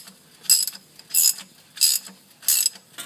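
A ratchet wrench tightening transmission pan bolts, heard as four evenly spaced bursts of rapid metallic clicking, close and clear with no talk.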